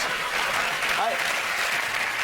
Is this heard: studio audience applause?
yes